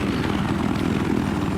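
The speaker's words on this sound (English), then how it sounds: "We're gonna go to the attack helicopter." An attack helicopter flies in a video game, its rotor chop and engine drone forming a loud, dense, steady roar with rapid pulsing, close and continuous for the whole stretch.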